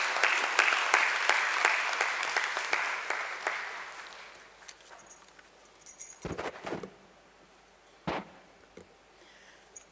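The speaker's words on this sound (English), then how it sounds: "A big round of applause, please." Applause at a company listing ceremony at a stock exchange, a burst of clapping that fades out over several seconds, followed by a few scattered clicks and rustling handling noises.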